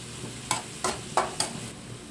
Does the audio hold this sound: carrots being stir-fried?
yes